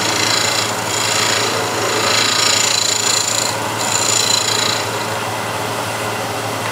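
A negative rake scraper works a piece of wood spinning on a lathe, giving a steady close rasping scrape over a constant motor hum, easing off toward the end.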